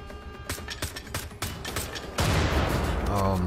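Enemy soldiers fire machine guns in the prison chapter of the shooter game Wolfenstein: The Old Blood, with rapid bursts of gunfire that grow into a dense, loud, continuous barrage.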